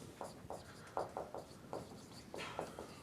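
Chalk taps and scrapes on a board as a lecturer writes during a calculus lecture, a series of short strokes in an irregular rhythm, close and fairly quiet against room hiss.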